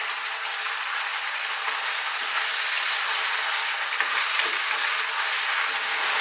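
Onions and herbs, thyme among them, sizzle steadily in a pan over medium heat, a dense, even hiss with faint scrapes of stirring and no voices.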